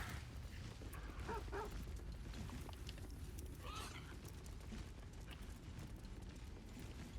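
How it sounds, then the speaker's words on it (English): Dogs barking in Baldur's Gate 3, a few yips and barks in the middle distance over a steady, dense game ambience with low rumble. "Does the dog barking mean that there's something that can be gathered?"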